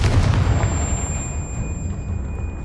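A Confringo blasting spell detonates in the Hogwarts Legacy video game, a loud booming explosion that bursts at once and rumbles down into a fading low roar with a faint lingering ring.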